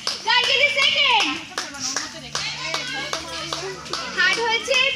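Loud, uneven applause rings out from a picnic gathering, crisp claps repeating in clusters close by while children chatter and call out over the clapping.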